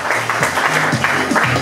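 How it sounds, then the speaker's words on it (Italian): Loud, brief applause from a crowd at a NABBA bodybuilding competition in Sestri Levante, Italy, with voices cheering over the clapping. "un grosso applauso per essere venuto da lontano"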